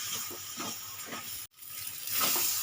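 Taro leaves cooked with a hilsa fish head, stirred in a pan over a medium gas flame, giving a steady close sizzle and hiss with rhythmic scraping strokes, broken by a brief gap midway.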